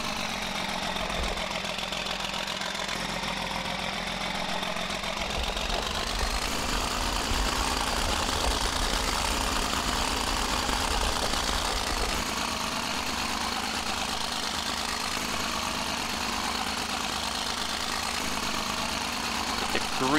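A tractor engine idles steadily in Farming Simulator 2013, a continuous mid-low mechanical drone with a dense, even hum that holds unchanged for about twenty seconds, fairly loud and close.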